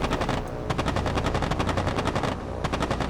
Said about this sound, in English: Oh, the sounds of those machine guns are absolutely fantastic.